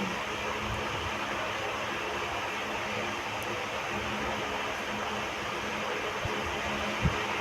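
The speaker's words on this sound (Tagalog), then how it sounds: "Yan, inopen natin yung electric fan." An electric fan running indoors, a steady, faint whooshing hum that stays even throughout with a soft thump near the end and no one speaking.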